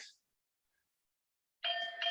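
A workout timer buzzer sounds near the end, a loud electronic tone in two close bursts following a brief faint beep and a long silence.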